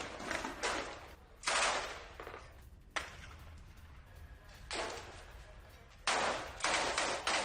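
Troops fire while surrounding buildings during IDF operations in Gaza. Loud, sharp bursts of gunfire come in several distinct volleys with short gaps, echoing against a rough outdoor background.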